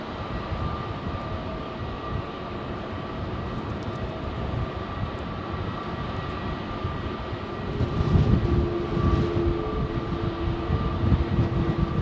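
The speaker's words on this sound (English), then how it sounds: "That's, yeah, it is that Air Canada jet." An Air Canada jet departs from runway 27L at London Heathrow. A broad, steady roar with a low rumble holds for the whole stretch and grows slightly louder and heavier toward the end.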